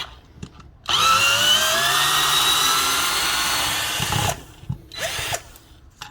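A Ryobi cordless drill, fitted with replacement lithium batteries, whirs steadily at close range for a few seconds, then stops, followed by brief handling clicks and a short second spin.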